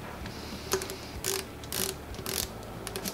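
A wrench torquing head nuts on a rebuilt 1985-89 Honda 250R two-stroke motor top end, producing a few sharp metallic ratchet clicks and clunks spaced apart over a steady background hiss, close and alone without talk.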